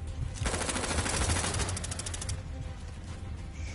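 Gunfire in Firewall Ultra, a loud rapid automatic burst of evenly spaced shots lasting about two seconds, then fading into quieter distant firing.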